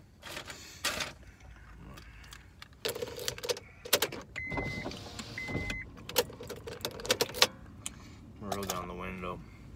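Keys jangling inside a hot car, short metallic rattles scattered among clicks and rustles, with a brief electric-window whir and someone speaking at moments.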